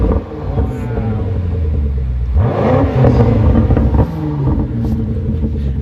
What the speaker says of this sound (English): But we'll let the engine do the talking, George.